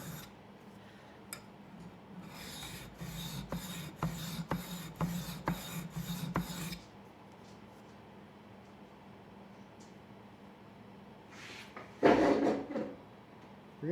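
A coarse metal file rasps along the steel edge of a jaw harp frame, about ten quick, regular strokes close up, then a pause and a brief louder scrape near the end.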